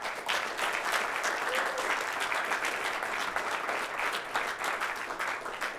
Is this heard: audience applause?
yes